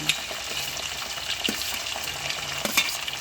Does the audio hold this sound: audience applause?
no